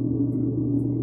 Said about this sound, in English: I have clouds chosen in the top oscillator, and it sounds like this.